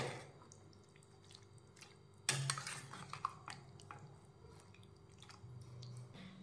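A spoon stirs cooked mixed village vegetables with chopped coriander in a pot, giving faint, quiet clinks and one sharper metallic clatter followed by soft scraping and squishing.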